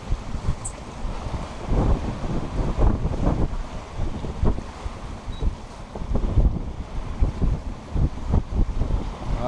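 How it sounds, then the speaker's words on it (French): Strong wind of about 16 to 20 knots buffets the microphone on a heeling sailboat making over six knots at sea in a swell of more than a metre, a continuous broadband roar with water rushing and surging beneath it. "On est sur du 16 nœuds établis et en vent apparent, on est sur un gros 20 nœuds."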